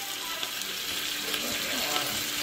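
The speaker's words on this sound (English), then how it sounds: "Look at the sizzle under. Look at all that oil." Hot oil sizzling steadily in a pan while food fries, a continuous crackling hiss with small pops, heard close up.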